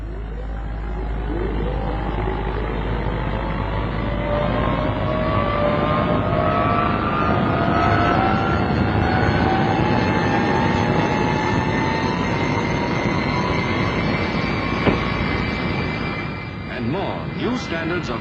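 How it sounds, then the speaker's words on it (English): Squadron of jets taking off almost together from a crowded runway, a sustained loud howling roar with rising whine tones that swells and holds, with a voice speaking over it. "The mass takeoff that launches a squadron of jets almost simultaneously into the air from a crowded, howling runway like angry falcons."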